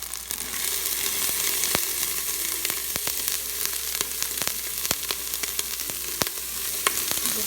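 Dried shrimp and diced Chinese sausage sizzle in a hot pot as they are stirred, a continuous crackling fry broken by frequent sharp clicks of the spoon against the pot, close and steady.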